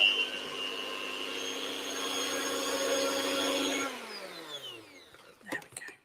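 Brownie cookie batter given a final whisk by hand in a bowl, a steady scraping whir for about four seconds that then stops, followed by a few light clinks and knocks close by.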